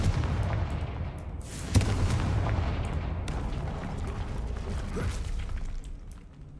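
A Confringo fire spell blasts in the Hogwarts Legacy video game, a sharp, heavy explosive boom followed by rumbling and crackling game effects, loud and close, with no talking.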